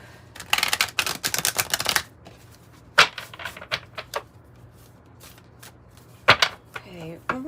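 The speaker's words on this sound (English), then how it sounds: "Okay, one more good shuffle." Tarot cards are shuffled by hand in quick riffling bursts of crisp, close clicks, then scattered single snaps and taps. A voice murmurs briefly toward the end.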